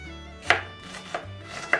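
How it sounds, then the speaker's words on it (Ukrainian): A knife chops an onion on a cutting board, three sharp, close strikes spaced apart, with no talking. "Тим часом я буду різати цибульку."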